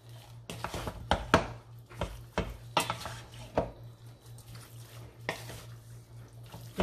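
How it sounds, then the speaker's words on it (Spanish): Seasoned beef being mixed for stew in a bowl, with irregular clinks, scrapes and wet stirring taps of a utensil against the dish, close and fairly quiet, over a steady low hum. "Vamos a mezclar muy bien."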